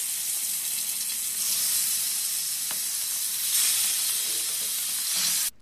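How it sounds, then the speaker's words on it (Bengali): Marinated pomfret fish fries in a pan with a close, dense, continuous sizzle, faint bubbling pops and a brief clink. No voices, and the sound cuts off abruptly at the end. "তারপর আমি ম্যারিনেট করা মাছগুলো এখানে ভেজে নেই।"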